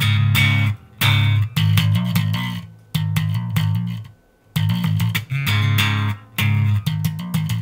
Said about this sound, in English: sometimes he does a quick little double pop